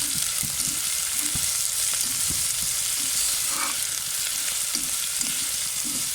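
Finely chopped onions frying on a low flame, a steady close sizzle with a rhythmic series of soft thuds and scrapes as they are stirred.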